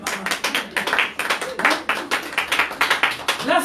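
A church congregation claps and applauds together in fast, steady rhythmic bursts, loud and close throughout, with a hint of voices underneath.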